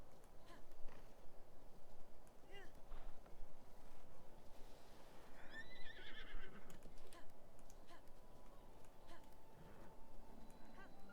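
Horse neighs and hooves clip-clop in the video game Zelda: Breath of the Wild, with one whinny rising clearly near the middle over a dense, steady bed of game ambience and footfalls.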